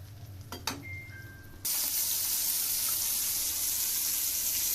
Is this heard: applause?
no